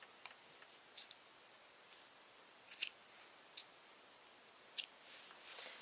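Scissors snip off extra yarn ends in a few faint, crisp clicks spaced irregularly across a quiet background.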